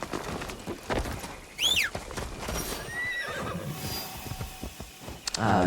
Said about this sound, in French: Ah, le bon vieux cheval.